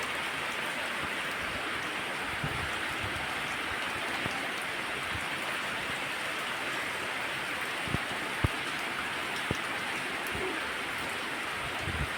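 Steady rain pours down throughout, a dense hiss of drops on surfaces with a few sharper taps standing out near the end.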